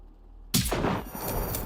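A single sharp, loud gunshot in the video game Generation Zero, cracking out of near silence, followed by a ringing metallic tail and reverberant echo.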